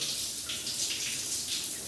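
A large rainfall shower head in a walk-in wet room pours water in a steady, close hiss and splatter, unbroken throughout.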